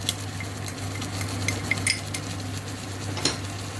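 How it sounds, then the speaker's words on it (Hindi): A saag mixture with coriander powder, crushed red chilli and salt is stirred in a pan, giving soft scattered utensil scrapes and clinks over a faint low hum, quiet and close. "नमक ऐड करती हूँ और इसको अच्छी तरह मिक्स करती हूँ ताकि ये पक जाए।"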